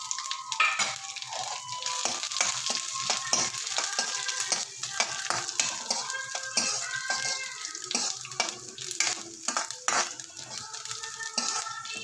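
Cashews sizzle and crackle in hot fat while a utensil stirs and scrapes the pan, close and continuous.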